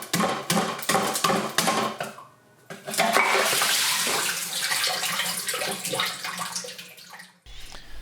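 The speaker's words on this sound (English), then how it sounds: "I'm just going to fill it with water." Water poured from a container into a plastic ice cube grid at home, a series of splashy pours and trickles with a brief pause, ending in a short clunk.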